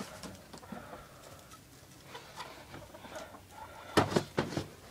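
Backyard chickens cluck softly and intermittently nearby, with a few sharper louder clucks toward the end over a quiet background.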